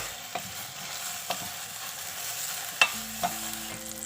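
Eggplant sizzles quietly in a pan as a utensil stirs it, with a few soft scrapes and taps against the pan over a low, steady background.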